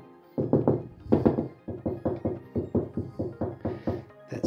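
A hand knocks along a wall in a DIY renovation while searching for a stud. About a dozen close, dull thunks and raps come in quick uneven groups, some ringing hollow and some sounding solid.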